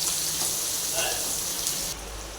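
Finely chopped onion fries in hot oil for a Kathiyawadi shing bhajiya curry, giving a steady, loud crackling sizzle that continues without a break.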